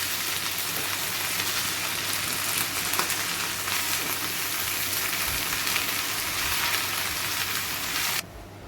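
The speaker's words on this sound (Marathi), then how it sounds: "इथे भाजी आपली परतून झाली छान." Cowpea leaf greens sautéing in a pan give off a steady, even sizzle that runs unbroken for about eight seconds, then drops sharply quieter near the end. No one speaks.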